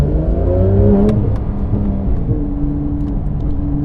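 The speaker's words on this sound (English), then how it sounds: "Full Akrapovic exhaust with the headers" A modded Porsche 991.2 GT3RS with a full Akrapovic exhaust and headers revs hard, a loud, close engine note climbing and then falling away into a lower drone, with no voices.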